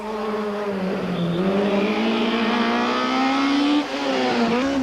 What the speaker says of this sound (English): We join them in car as they tackle the final stage around the parking area at Warmer Park in Port Elizabeth.